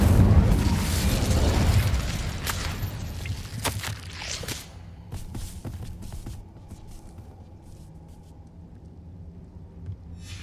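Incendio fire spell in Hogwarts Legacy erupting as a heavy roaring burst, followed by several sharp crackling impacts that fade into a quieter, lingering tail.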